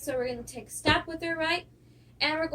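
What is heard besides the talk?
None of the usual background noises is heard.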